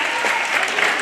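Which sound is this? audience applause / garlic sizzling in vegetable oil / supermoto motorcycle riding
audience applause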